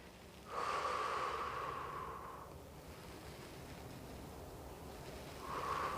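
Breathing during a sit-up exercise in a fitness class: a strong, drawn-out breath with a hissing, slightly snorting quality that trails off, then another breath beginning near the end, close and fairly quiet over a soft background hiss.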